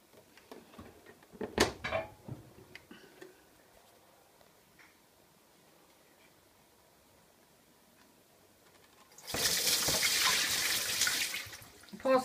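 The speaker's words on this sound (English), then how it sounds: "pour some water into it" Water is poured into a faulty Hotpoint Aquarius DW30 dishwasher that has stopped filling; after some clicks and handling noises, a loud steady rush of pouring water runs for a few seconds before a final clatter.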